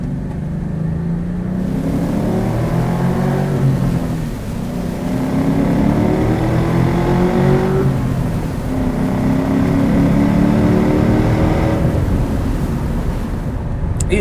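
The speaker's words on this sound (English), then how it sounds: "We'll do some smooth acceleration here." A 2003 Ford Mustang Mach 1 with a 4.6 V8 and five-speed manual accelerating smoothly: a steady engine drone rises through two or three gear pulls, heard from inside the cabin with some wind rush and no talking.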